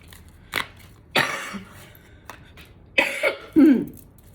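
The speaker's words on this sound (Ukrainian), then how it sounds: "Вибачте, я буду трохи кашляти." A few separate coughs, close and fairly loud, spaced out with quiet pauses between them.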